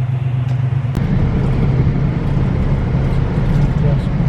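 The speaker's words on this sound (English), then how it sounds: "Cruising along on our way to our next destination" A 1966 car cruises down the road on a clear day, its steady low engine rumble and road noise filling the cabin continuously and close, with no voices over it.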